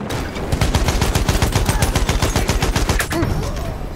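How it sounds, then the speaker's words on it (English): Rapid machine gun fire in a first-person shooter video game, a loud, evenly spaced string of close shots that tails off near the end into the game's ambient noise. "Machine gun!"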